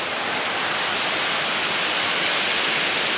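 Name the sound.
heavy rain pouring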